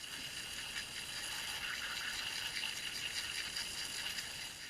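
Water spraying steadily onto a pool filter cartridge during rinsing, a constant broad hiss with no pauses, moderately close, alone without talk.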